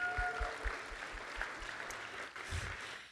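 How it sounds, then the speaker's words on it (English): Applause from an audience at a sponsored business talk on growth leadership, a steady, moderately loud wash of clapping from a seated crowd that holds for a few seconds with no one speaking over it. "Can we give a round of applause to Terry?"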